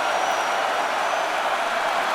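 Continuous roar of a packed stadium crowd during the 2022 Gator Bowl, Notre Dame against South Carolina, a broad, even wall of cheering that holds steady throughout.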